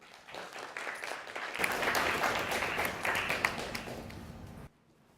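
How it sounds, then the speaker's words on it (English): An audience at a leadership keynote talk applauds the Apprentice 2018 class. The sustained applause from many hands is dense and fairly loud, builds quickly, holds for several seconds, then stops abruptly. "please can we give the Apprentice 2018 class a massive round of applause"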